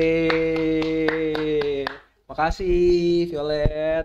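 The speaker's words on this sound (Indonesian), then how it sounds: "Prok prok prok. Tepuk tangan." Sharp hand claps tick in a steady rhythm beneath a sustained sung melody, a short pause, then more claps continue as a voice speaks briefly.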